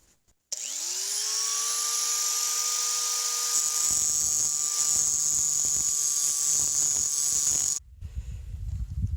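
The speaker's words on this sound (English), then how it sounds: "it's amazing how many things you can build with a grinder" An angle grinder cuts pipe for an e-bike hub build, spinning up to a loud, steady high-pitched whine and holding it for about seven seconds before stopping abruptly.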